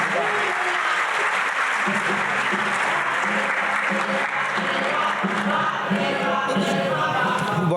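A festival audience at the Tarrafa Literária literary event gives sustained, dense applause for Manuel da Costa Pinto, the TV Cultura presenter, clapping steadily for about eight seconds with a few voices mixed into the crowd noise.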